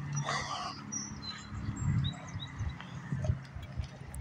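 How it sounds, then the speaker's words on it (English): Several birds chirp and tweet in short, scattered calls over a rumbling outdoor background, fairly faint and at a distance, beside Kenduskeag Stream in Bangor, Maine, in April. "you can hear the birds chirping and stuff"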